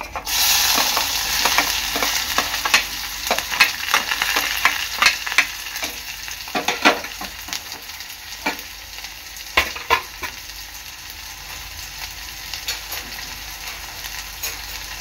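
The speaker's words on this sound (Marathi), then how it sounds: "कांदा चांगला लाल होईपर्यंत शिजवून घ्यायचा आहे" Onion frying with mustard seeds in a hot pan for a brinjal bharit, a steady sizzle broken by frequent sharp scrapes and clinks of a spoon stirring, close and fairly loud, with no voices.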